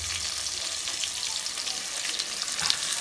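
Sliced onion sautéing in a pan for a pork roast gives a dense, even sizzle throughout, close and steady, with a faint clink near the end and no talk.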